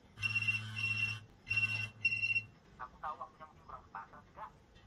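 Phone ringing with an incoming call: two to three loud electronic ring bursts in the first two and a half seconds, followed by quieter scattered sounds.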